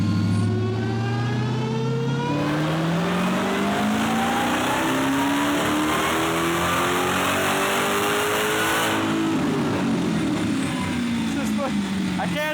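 A modified Dodge Hellcat with adjustments to its tune roars as the engine revs hard, pitch climbing steadily through long pulls and then dropping back, loud and close with no talk.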